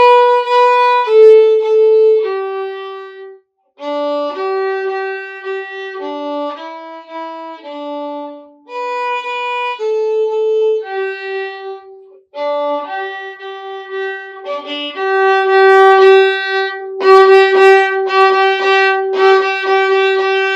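A solo violin plays a melodic line with increasing bow speed, pressure and distance, its tone shifting between soft and bright, growing louder and fuller toward the end.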